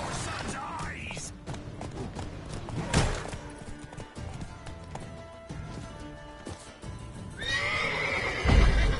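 Roach the horse gallops and neighs in The Witcher 3, hoofbeats pounding steadily beneath loud whinnies, with battle noise and shouting voices over the run.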